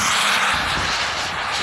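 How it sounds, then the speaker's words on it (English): An RC model jet turbine engine runs at an outdoor flying field, giving a steady loud roaring whine that stays continuous throughout, with no talk. "Jet turbines are a really cool aspect of our hobby"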